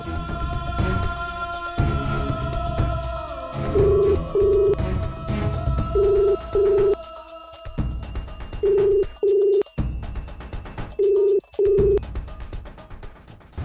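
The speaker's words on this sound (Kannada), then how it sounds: "ಫೋನ್ ರಿಂಗ್ ಆಗ್ತಿದೆ, ಆದರೆ ಅವ್ರು ರಿಸೀವ್ ಮಾಡ್ತಿಲ್ಲ" A telephone rings unanswered, sounding in repeated paired bursts over a continuous background music bed, with no voices.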